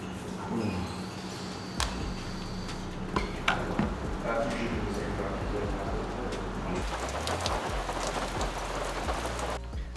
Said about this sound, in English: It's not dry out, but it is raining a lot less now.